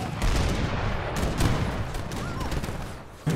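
Sevastopol mortars fire in the Age of Empires 3 game against guard towers, a steady run of rumbling, crackling blasts and gunfire that overlaps throughout, with a sharper boom near the end.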